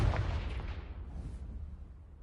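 A Confringo blasting spell goes off in a Harry Potter video game, a single loud boom at the start that rolls off into a low rumbling decay.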